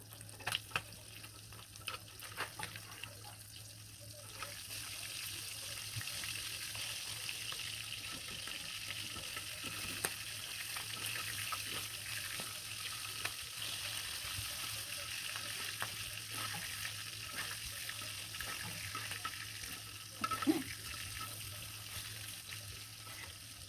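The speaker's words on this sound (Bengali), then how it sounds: "দিয়ে দিলাম শিং মাছগুলো তেলে মাছগুলোকে সুন্দরভাবে লাল লাল করে ভেজে নেবো" Shing fish (stinging catfish) frying in hot oil, a steady sizzle across the whole stretch with a few sharper crackles and spatters, close and moderately loud, no talking.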